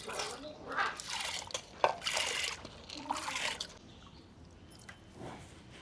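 Water drains off washed dal (lentils) and splashes into a pot beside a wood-fired stove: intermittent close trickles, drips and splatters, then quieter dribbles.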